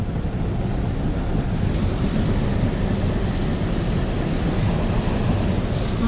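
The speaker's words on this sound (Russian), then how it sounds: "Смотрите, какое здесь море." Steady, roaring sea surf pounds a flooded stretch of Spanish coastline, a dense continuous wash of waves with wind buffeting the microphone and no talk.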